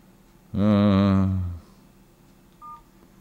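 Telephone tones from a phone handset: one long, buzzy sustained tone, then after a pause a short, quieter beep.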